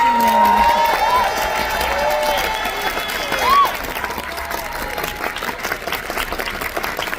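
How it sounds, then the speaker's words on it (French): Concert audience at a Francofolies show in Montréal clapping and cheering as guitarists are introduced, loud at first then thinning, with a few shouts and a singer's voice over the applause. "Je voudrais qu'on applaudisse chaleureusement"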